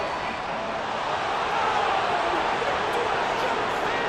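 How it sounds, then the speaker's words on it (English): A stadium crowd in Madden NFL 24 during a Browns versus Patriots game sends up a steady, dense roar of disapproval, broad and continuous throughout with no clear voices standing out. "Well, the crowd doesn't like that."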